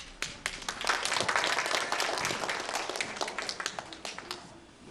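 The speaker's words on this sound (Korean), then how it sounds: "그래서 많이 박수해 주시고 환호해 주시기를 부탁을 드립니다" Dense audience clapping at a church children's nativity play, a full crowd of hands applauding steadily before tapering into scattered claps.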